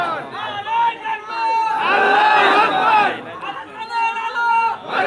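A crowd at an outdoor Islamic religious gathering roars takbir in unison, the massed chanting swelling into a loud sustained shout before falling back to rhythmic group calls.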